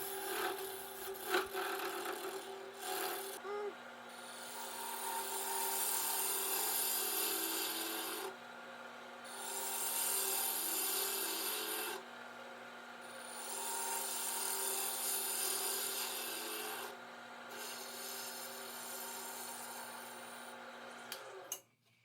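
Wood lathe turning a polyhedra box base as the bottom is flattened and a dovetail mortise is cut, a steady motor hum under repeated scraping passes of the tool on wood, each lasting several seconds with short breaks.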